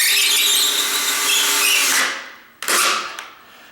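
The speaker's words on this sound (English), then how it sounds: "I like to pre-drill the holes because I don't want to crack the door jamb" A power drill pre-drills holes into a wooden door jamb on a tall sagging door. It whines loudly and steadily for about two seconds, winds down, and then gives a second short, loud burst near the end.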